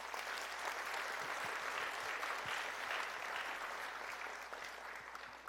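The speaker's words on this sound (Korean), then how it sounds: "다시 한 번 더 큰 박수 부탁드립니다" A large crowd applauds steadily throughout at an entrepreneurship concert in Korea, a dense, sustained wash of clapping from many hands that fades slightly toward the end.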